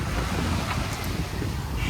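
A sailboat under way on open sea in a light south-easterly, with steady wind buffeting the microphone over a continuous low wash of water along the hull.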